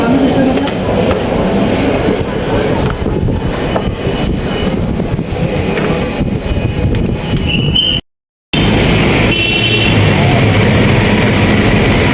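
A metro train runs loudly around a rider on the way to Victoria Memorial park, a continuous rumble and rattle of wheels and carriage with brief squeals, a short break midway, and voices heard under the noise.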